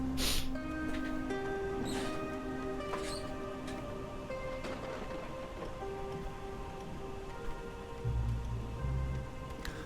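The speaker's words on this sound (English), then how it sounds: "Heavy rain." Heavy rain in the video game Whiskerwood, a steady wash of falling drops with scattered soft taps and a low rumble beneath, continuous over faint game tones with no voices.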